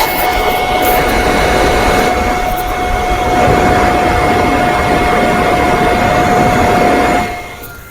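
A Netpack phone cooler fan runs at its maximum level, giving a steady, loud broadband whoosh with a constant high tonal whine that holds for about seven seconds before dropping away near the end.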